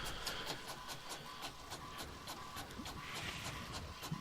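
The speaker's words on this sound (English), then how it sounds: "It's going to pull it back in. I got a 2-side printer." Two-sided printer pulling a sheet of paper back in for the second side, a steady mechanical whirring with rapid regular clicks, fairly close and heard alone.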